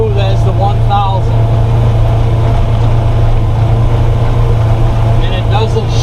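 A Polaris XP900 side-by-side UTV drives along with a steady, loud engine drone and a constant low hum, a few faint higher tones and rattles passing over it.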